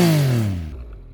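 A single loud rev from the aftermarket exhaust of a 2022 Yamaha MT-09 motorcycle dropping off quickly, the engine note falling in pitch and fading to a low idle within about a second.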